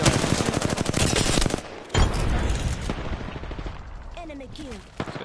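Rapid automatic gunfire rattles loudly in a video game in dense sustained bursts, then resumes with sharper shots after a brief break, mixed with faint game voices and electronic chirps.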